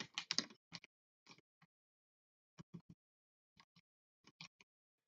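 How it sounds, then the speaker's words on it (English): Someone types on a mechanical keyboard with red switches, in a few short bursts of soft clicking keystrokes separated by brief pauses. The sound is close and quiet, with no voices. "This keyboard is so satisfying."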